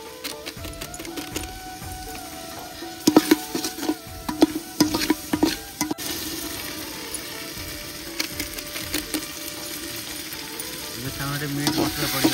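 Chicken kosha frying with meat masala in a pan, a constant close sizzle broken by sharp clacks and scrapes of a spatula stirring, busiest in the middle and steadier toward the end.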